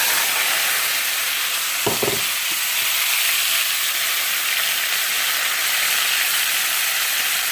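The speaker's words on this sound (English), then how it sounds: "We're now going to add our steak meat to the pan." Steak meat fries in hot bacon fat in a pan, a loud, steady, close sizzle that holds without a break, with a brief clatter of meat or utensil early on.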